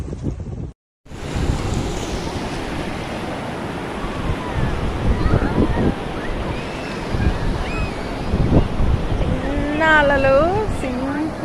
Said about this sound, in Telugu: అలలు సింపుల్గా భలే వస్తున్నాయి. చిన్న అలలు రా.